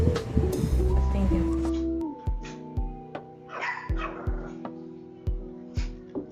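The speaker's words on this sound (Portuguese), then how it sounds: "Os cachorros estão sempre perto de mim" Dogs indoors at home bark and whimper close by: a run of sharp yips and short barks at uneven intervals, mixed with thin whines, some louder than others.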